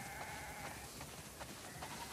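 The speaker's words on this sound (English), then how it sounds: "Wow, that's a lot of sheep." Sheep bleating in the video game The Last of Us Part II, a flock heard around a farm barn; faint, soft overlapping bleats sit under a steady ambient wash, with no talking.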